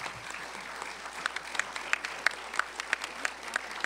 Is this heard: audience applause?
yes